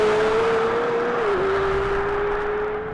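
A McLaren 720S sports car engine holds a loud, steady, close droning tone under acceleration, with a brief dip in pitch midway before carrying on evenly.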